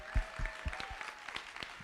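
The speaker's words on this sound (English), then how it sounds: "Can we have one more round of applause for the chief," A short burst of audience applause for a police chief at a community dialogue on the opiate crisis, faint and somewhat distant, with scattered claps fading out within two seconds.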